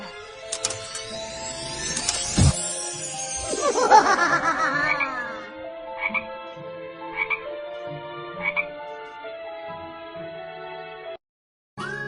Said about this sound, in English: I will change you into an ugly frog